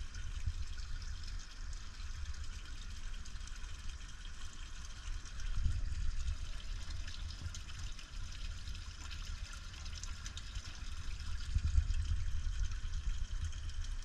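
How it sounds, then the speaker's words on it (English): Water runs steadily through a canal in a South Florida park, a soft, continuous rushing wash that swells slightly at moments, heard alone with no talking. "As you can tell with the running water,"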